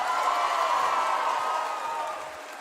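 Audience applause with cheering for a man being honored for serving his country, a dense, steady crowd roar of clapping that holds loud and then eases slightly near the end.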